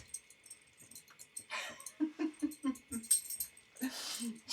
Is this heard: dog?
yes